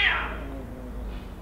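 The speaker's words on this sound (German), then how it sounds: "Hinter mir finden gerade Katzenkämpfe statt." Cats fighting nearby, with a brief high yowl at the start fading into lower growling and moaning that carries on steadily for over a second, heard alone without any talk.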